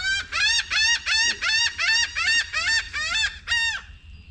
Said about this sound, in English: These birds are going crazy.